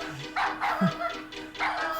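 Dogs bark and yip in a film scene as they run loose through a cluttered hardware store, giving a few close, sharp barks and short yelps in quick succession over a busy background.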